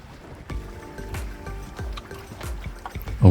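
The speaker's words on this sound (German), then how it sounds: "genieß einfach die Fahrt durchs Wasser, das Geplätscher, die vorbeiziehenden anderen Boote" Water laps and splashes against a small boat's hull in a steady rhythm of soft slaps, close by, with a louder splash at the end.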